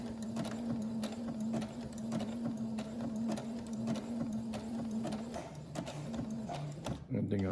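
A sewing machine runs steadily while mending old underwear, reinforcing a repaired seam with an extra line of stitching; the motor holds a continuous hum with rapid needle clatter throughout, up close, then stops abruptly near the end.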